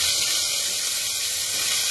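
Vegetables with green chillies are poured into a hot pan and cooked without oil, giving a steady, bright hiss of sizzling that stays fairly loud and even throughout.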